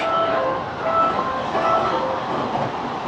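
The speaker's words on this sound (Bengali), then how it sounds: "ট্রেনটা ঢুকে গেছে এখন দৌড়ে দৌড়ে ট্রেন ধরবো" A train pulls into a station in Japan, its steady rumble and rolling rail noise filling the whole stretch at close range, without any horn or voices standing out.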